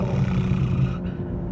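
BMW M240i with its B58 inline-six engine, a loud, continuous deep growl of revving heard up close, easing slightly toward the end.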